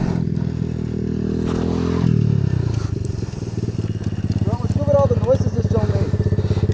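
Two Chinese Apollo 250cc dirt bikes idle, then rev and accelerate away together in a race, their loud buzzing engines rising in pitch, with rattling, a bird chirping and faint voices in the background.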